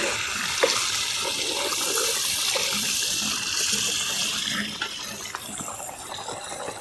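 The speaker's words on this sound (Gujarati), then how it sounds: "તો થોડું એવું આપણે પાણી એડ કરી દઈશું" Water is poured into a pan of cooked chilies for a spicy raw banana curry, a steady close splashing pour running unbroken for several seconds.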